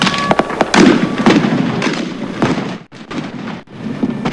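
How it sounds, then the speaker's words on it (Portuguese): Repeated sharp blasts and cracks, loud and close, some in quick bursts, with rumbling between them. "Explosões"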